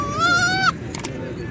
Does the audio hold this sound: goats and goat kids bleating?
yes